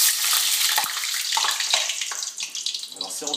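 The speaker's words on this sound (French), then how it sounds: "Et vous allez les plonger dans l'huile chaude." Flour-dusted scallops lowered from a skimmer into hot frying oil, a loud hissing sizzle and bubbling that settles into a steady crackle, close by, with faint talk.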